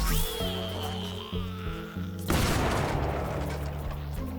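A Snapdragon explosion effect in the Garden Warfare 2 video game plays as a sustained sound with stepped tones, then a sudden loud burst partway through, followed by a rushing, crackling tail.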